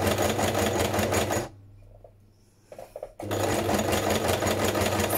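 A sewing machine stitches a vellum pocket close up, running in steady bursts that stop for about two seconds mid-clip before the motor resumes.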